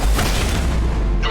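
A deep, loud boom from incoming fire in Marvel's Midnight Suns, filling the whole short moment with heavy low rumble and a brief crackling burst near the end.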